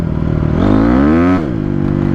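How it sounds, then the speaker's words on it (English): A Honda CRF250R dirt bike engine revs hard and loud up close, its pitch climbing steadily to a sustained peak, then dropping back to a steady, lower throb. "love how the dirt bike just canters sideways"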